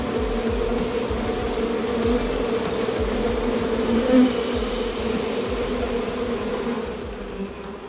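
Honey bees buzz steadily around hives, a dense, continuous drone from many insects close by, with occasional louder passes near the listener and no voices.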